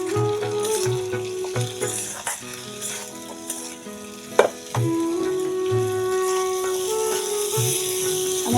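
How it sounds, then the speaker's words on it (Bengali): Potatoes fry with chilli, salt, turmeric, a little sugar and chilli powder in a pan, giving a continuous sizzle with stirring clatter and occasional sharp scrape or tap of a utensil, close and fairly loud, no talk. "আমার আলুগুলো ভাজা হয়ে গেছে।"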